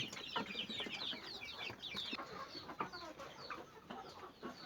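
Two-month-old backyard chickens clucking and chirping continuously at a feeding spot, many overlapping calls at moderate distance over steady farmyard ambience.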